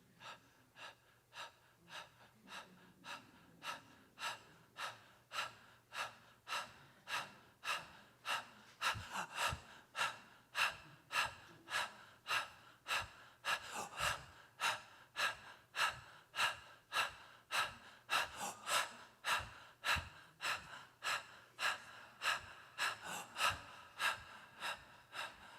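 Steady, rhythmic breathing during a guided breathing exercise, with regular inhales and exhales repeating about once per second for the whole stretch, fairly close and clear over a quiet background.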